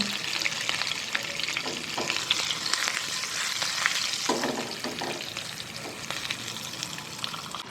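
Mustard seeds and a small green chili crackle and sizzle in about one and a half spoons of hot oil for a tempering, giving a close, steady frying hiss with sharp pops scattered throughout.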